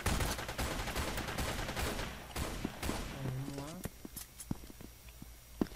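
Gunfire in the online shooter Brain Out, a dense stretch of rapid shots over the first three seconds thinning into scattered single cracks, with game ambience and a voice speaking underneath.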